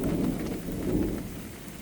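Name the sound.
heavy rain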